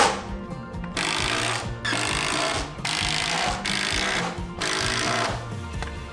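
A power driver sinks 44mm screws into a timber joist, in five separate loud bursts of buzzing, hammering rotation, each about a second long, with short pauses in between.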